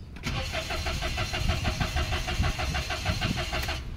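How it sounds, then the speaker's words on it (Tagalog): A Toyota Wigo with an immobilizer communication fault cranks without starting, its starter churning in a steady, fast rhythmic chug for about three seconds, close and loud, before cutting off. "subukan nating pandarin ang makina kung tatama ba talaga ang aking patsamba diring dapita. Engine start."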